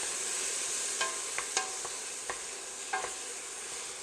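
Chopped fresh tomatoes cook in a gumbo pot under a steady, bright sizzle, while a spoon stirs them with several light scraping knocks spread unevenly over a few seconds.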